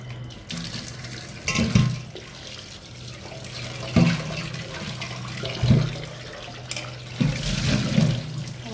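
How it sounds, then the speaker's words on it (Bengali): Hilsa fish being rinsed under a running tap at a kitchen sink, a steady close stream of water with splashing bursts as the fish is handled, no speech. "ইলিশ মাছটি আমি ধুয়ে নিই।"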